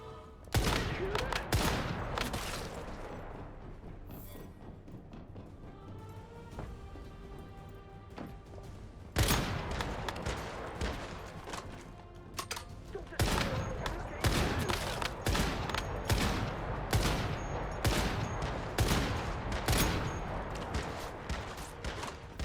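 Gunfire in the survival shooter Once Human, played on a custom server in the Red Sand area: sharp, loud shots in bursts and rapid volleys, a lull early on, then sustained firing with crashing impacts.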